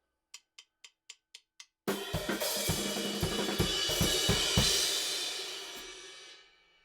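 Six soft, evenly spaced clicks count in, then a full drum kit crashes in at speed with steady kick hits and washing cymbals that ring out and fade.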